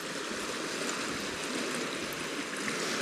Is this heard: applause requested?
no